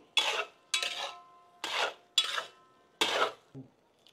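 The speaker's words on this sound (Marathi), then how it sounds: "ग्रेव्हीमध्ये अंडे व्यवस्थित आपण मिक्स करून घेऊ।" A spoon stirring fried eggs into biryani gravy in a pot, five or six separate scraping strokes against the metal at an even rhythm, close and clear with no talk.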